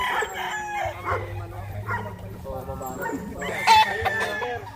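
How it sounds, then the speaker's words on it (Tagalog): Many chickens and roosters on a farm: a rooster crows loudly while other fowl cluck and call around it, close and busy for the few seconds heard. "napakaraming manok."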